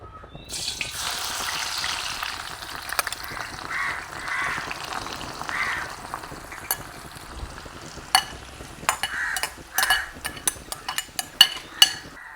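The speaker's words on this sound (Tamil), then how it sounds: "எண்ணெய் கொதிச்சுட்டுது, நாங்கள் இப்போ வெங்காயத்தை போட்டுக்கொள்வோம்." Onions dropped into hot boiling oil for a shark sambal sizzle steadily in a pan, with sharp scraping clicks from stirring growing more frequent toward the end, close and moderately loud with no talk.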